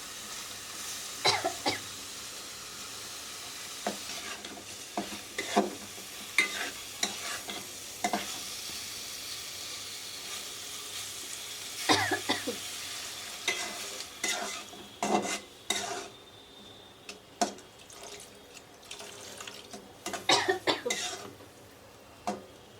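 Spice paste for a village-style fish curry being sautéed in oil, with a soft frying sizzle under repeated sharp scrapes and clinks of a spatula stirring against the pot.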